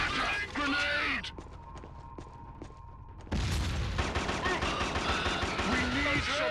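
Bursts of automatic gunfire in a first-person shooter crack loudly, pause for a thinner stretch with a few isolated shots, then resume in a dense barrage, with game voices shouting between.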